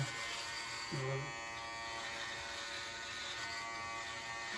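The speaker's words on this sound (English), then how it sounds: "gotta use a new shaver" A Manscaped Beard Hedger electric trimmer buzzes steadily and continuously at close range, a bright high-pitched motor whine that never stops.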